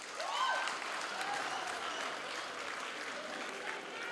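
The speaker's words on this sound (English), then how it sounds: "Can you clap hands for your lecturers?" A graduation audience at Walter Sisulu University applauds the lecturers, steady mid-distance clapping from a large crowd, fairly faint and even throughout, with a few whistles near the start.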